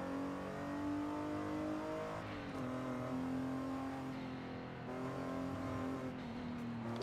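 A car engine hums steadily in Forza Horizon 5, its pitch sliding smoothly between gear-like steps as it revs and settles, loud and close with no talking.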